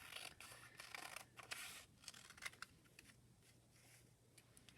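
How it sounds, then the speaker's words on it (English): Scissors snip through paper strips, cutting each in half for a paper weaving project: a quiet series of short, crisp cuts and light paper rustles close by, with no talking. "So I'm going to cut each one of these in half."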